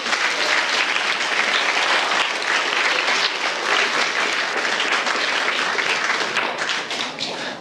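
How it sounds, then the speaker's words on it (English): A live audience claps enthusiastically for a tellurium demonstration at a periodic table talk, dense and sustained applause that holds steady before tapering slightly at the end. "Let's have a round of applause for tellurium."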